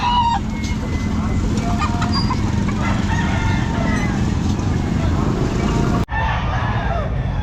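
Hatch Gray gamefowl roosters crow at the busy Calumpit pet market, several overlapping crows and clucks over a dense roadside hubbub of traffic and crowd noise, with people talking throughout.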